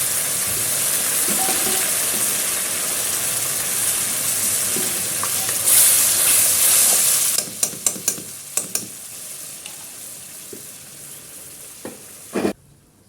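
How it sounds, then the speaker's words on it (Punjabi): A loud, steady sizzle of hot oil tempering for lentils fills the air, then eases as a few sharp clicks and clatters of a utensil sound near the end. "ਤੇ ਲੋ ਜੀ ਤੜਕਾ ਸਾਡਾ ਭੁੱਜ ਗਿਆ"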